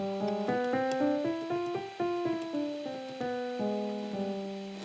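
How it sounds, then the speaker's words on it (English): A Mixolydian flat 2 scale played as single sustained notes on a keyboard instrument, stepping one tone after another at an even, unhurried pace. "which is actually the Mixolydian flat 2, which sounds like this."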